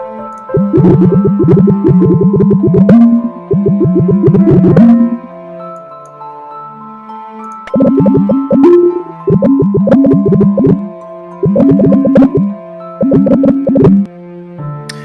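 Bursts of quick, bubbly synthetic blips chatter in short phrases, like a cartoonish babble voice for scrolling game text, separated by brief pauses.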